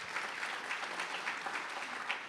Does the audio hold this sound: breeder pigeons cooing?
no